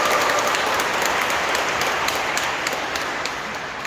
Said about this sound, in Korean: 우리 서로서로 축하의 박수 드리겠습니다